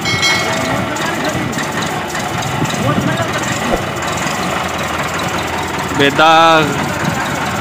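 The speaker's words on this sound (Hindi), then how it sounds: "ट्रैक्टर इसके स्टार्ट खड़ा हुआ, आवाज तुसी चेक कर सकते हो ट्रैक्टर दा" Massey Ferguson 375 tractor from 1995 idling with a steady low diesel rumble under someone talking, with a brief rising mechanical whine near the end.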